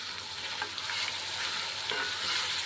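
A green chili, garlic and ginger paste sizzles steadily in a pan while being stirred for a spiny-gourd stir-fry, a brief, soft, even hiss with no talking.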